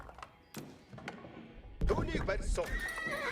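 Horses whinny in an Age of Empires multiplayer match, short neighs and clip-clop mixed with game clicks and thumps, while a player talks over them throughout.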